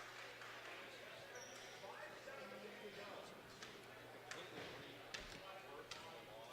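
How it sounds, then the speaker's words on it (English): A basketball bounces off the court floor during a high school boys' game, its dull thumps faint under a commentator's steady talk and gym crowd murmur. "You can hear that ball bouncing up off the floor."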